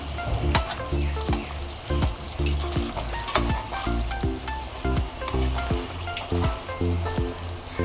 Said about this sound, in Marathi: आपल्याला हे वाटण घातलेलं आहे तर छानसं परत एकदा चांगलं परतून घ्यायचं आहे